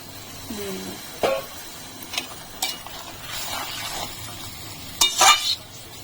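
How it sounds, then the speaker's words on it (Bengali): Boiled bottle gourd leaf water pours into a pan of frying mustard-poppy paste in a home kitchen, giving a few sharp sizzling bursts and stirring scrapes, with a spoon knocking the pan between them. "লাউ শাক সেদ্ধ করে যে জলটা ছিল সেই জলটা দিয়ে দিচ্ছি"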